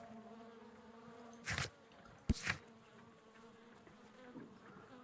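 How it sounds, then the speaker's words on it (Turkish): In the Sherlock Holmes: Crimes and Punishments video game, bees buzz as two short, close bursts over a low ambient hum, with no voices. "Tüm bu berbat arılar nereden geliyor?"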